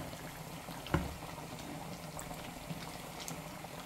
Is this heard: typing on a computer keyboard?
no